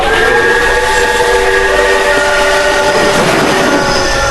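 A train pulls in inside a horror video game: a loud, continuous rumble with sustained horn-like tones, heard up close throughout and with no speech.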